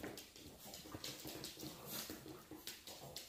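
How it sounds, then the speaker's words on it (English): Dogs whimper and whine faintly in the background of a room, with scattered soft yelps and rustling noise and no clear speech. "those are my dogs in the background"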